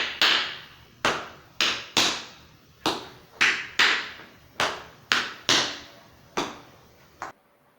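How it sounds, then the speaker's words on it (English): Tap shoes on a hard floor strike a series of sharp, ringing metallic beats for a flap heel turn, about a dozen clear close taps in uneven pairs and groups, each decaying quickly, with no talking. "There are two components to the flap heel turn, a flap and a heel drop while rotating."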